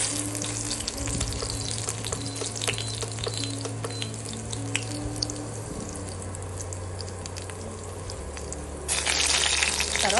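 Onions sizzle and crackle steadily in very hot oil for a pan of pappu charu, a loud, dense, continuous fry close up with a brief surge near the end.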